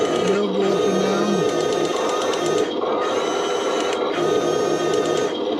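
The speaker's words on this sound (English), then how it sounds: "And you got your machine gun sound with the little LED mounting up there" Heng Long StuG III RC tank firing its machine gun sound effect: a fast, continuous electronic rattle, loud and close, with a faint motor whir underneath, played without talking.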